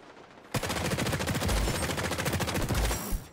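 Rapid gunfire and a grenade blast in the video game XDefiant, a dense burst of fast automatic shots with heavy low booms, loud and close, beginning abruptly after a brief quiet.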